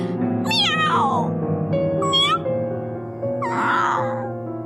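Repeated cat meows, three drawn-out high calls spaced over a few seconds, loud and close over a steady background hum with no talking.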